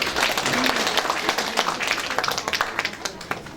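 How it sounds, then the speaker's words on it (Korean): At a county town-hall discussion event in Yangpyeong, an audience applauds as the county head comes forward, a dense burst of clapping that thins into scattered claps, with voices murmuring underneath. "군수님 나오실 때 큰 박수 부탁드립니다."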